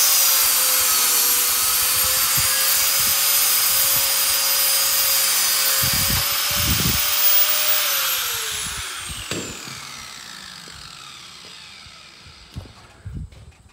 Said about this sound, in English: we're going to sand all that raw wood off, make a nice clean edge